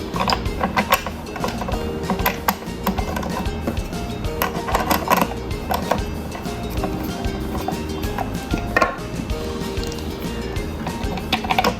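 Nuts are tightened to fix a Safariland QLS holster mount in place, heard as busy close-up mechanical clicking, ratcheting and handling clatter that runs continuously over a noisy background.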